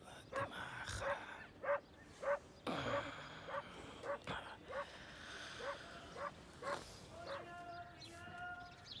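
Dogs bark repeatedly outdoors at middle distance, sharp separate barks spaced at fairly even intervals over a noisy background, with some whining yips near the end.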